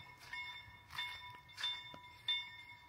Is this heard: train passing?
yes